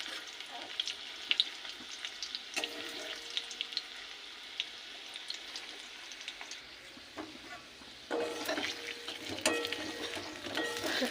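Potatoes frying slowly in a pan over a medium gas flame give off a steady, busy sizzle with crackling pops, briefly stirred, growing louder and denser toward the end with no voices.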